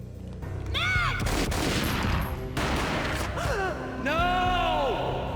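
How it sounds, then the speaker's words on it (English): Gunfire in the Max Payne video game on Xbox, a loud burst of booming shots with dense game sound and short vocal gasps layered over a sustained rumbling background. "A gunshot boomed and she fell down in slow motion."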